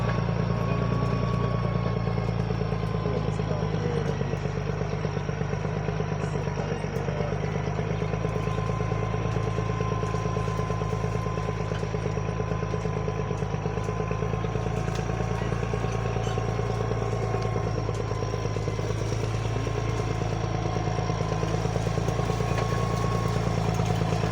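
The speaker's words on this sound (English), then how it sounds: "the tractor is coming with tree" A farm tractor engine drones steadily and fairly close, a constant low rumble with a faint mechanical whine, holding an even level throughout with no talking.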